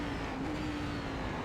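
Cadillac CTS-V race car circling Spa-Francorchamps in the iRacing sim, its engine a steady, loud, close drone with a sustained tone and no clear shifts or passes.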